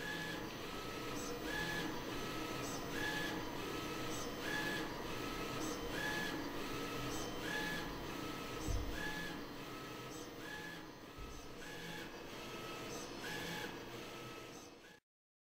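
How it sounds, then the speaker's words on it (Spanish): Roland wide-format printer running a VersaWorks print job of a drawing at 720x720 resolution, a steady mechanical whir with regular carriage passes sweeping back and forth, loud and close, no voices. "Acabamos de imprimir"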